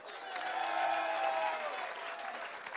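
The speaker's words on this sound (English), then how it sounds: "Give them a nice round of applause." Audience applause at a bodybuilding competition weigh-in ceremony, a short burst of many hands clapping with some crowd noise that swells and then tapers off, fairly faint and distant.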